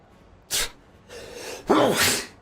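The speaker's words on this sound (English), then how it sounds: "once I start sneezing, can't stop sneezing." A single close, loud sneeze: a quick sharp intake, a breathy build and then a forceful voiced burst, heard alone.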